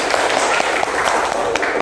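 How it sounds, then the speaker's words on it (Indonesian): A classroom of students claps during a lesson, giving a brief burst of quick, scattered clapping close by, mixed with voices. "Ya, bagus, tepuk tangan."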